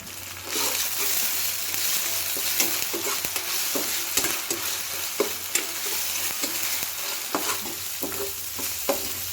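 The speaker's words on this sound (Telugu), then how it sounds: "బాగా ఫ్రై చేసుకుందాం తర్వాత అల్లం వెల్లుల్లి పేస్ట్ వేసుకుందాం" Onions with ginger garlic paste fry in a pan, a constant close sizzle broken by repeated sharp scrapes and taps of a spatula stirring, steady and fairly loud throughout with no voices.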